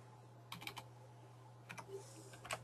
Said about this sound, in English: you simply type in their email address right here